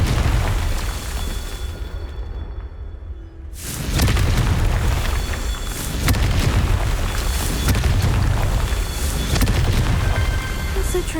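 A Confringo blasting curse explodes in the Hogwarts Legacy video game: after a brief quieter lull, a loud, full booming blast hits and rumbles on as sustained heavy noise.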